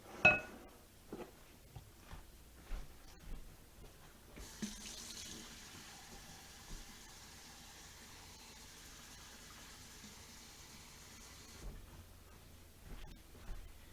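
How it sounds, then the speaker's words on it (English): A hot water tap runs steadily for several seconds with a broad, even rush, bracketed by clinks and handling noises before and after. "I'm going to get 2 cups of super hot tap water."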